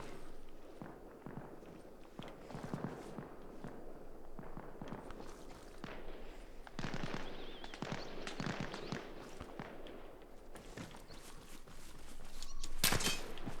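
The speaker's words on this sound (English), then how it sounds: "all this gunfire has drawn away the guys from here" Scattered sharp cracks and pops of gunfire in the video game Arma Reforger, some near and some distant, fire irregularly over a busy background, with a louder burst near the end.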